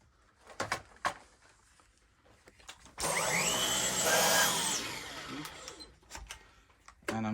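A Dyson stick vacuum cleaner kicks in with a loud, close, whooshing motor roar for roughly two and a half seconds, surrounded by quieter clicks and handling knocks before and after.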